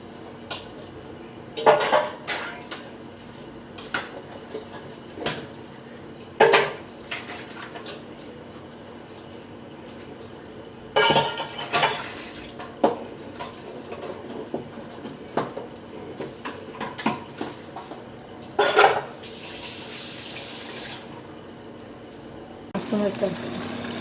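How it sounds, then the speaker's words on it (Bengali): Pots, pans and cutlery clatter intermittently while dishes are washed at home, with sharp clinks and scrapes over a steady low background, and a longer burst of water-like hiss near the end. "বাসন কটা আছে ধুয়ে নিই।"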